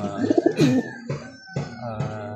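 Pigeons in a breeding loft cooing in soft, repeated throaty bursts, several overlapping calls close by with short pauses between them.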